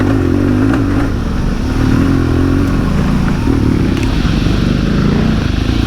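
A Harley-Davidson Pan America motorcycle rides over a rough track, its engine droning loud and steady at close range with rumbling clatter and scraping from the terrain underneath.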